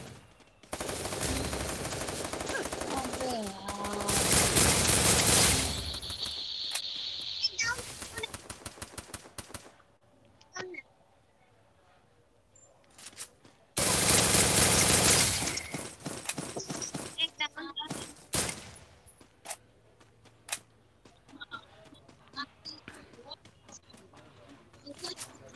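Gunfire in the Free Fire battle royale game: loud dense automatic bursts around five and fifteen seconds, rapid clattering shots between, and quieter scattered pops, with voices talking throughout.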